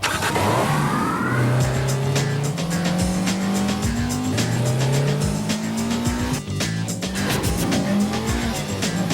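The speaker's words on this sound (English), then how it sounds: "Introducing the 240 horsepower S2000 Roadster from Honda." A Honda S2000 roadster with a 240-horsepower engine revs hard and shifts repeatedly, the engine note climbing through gears while tires squeal and skid, loud and close throughout with music-like swells.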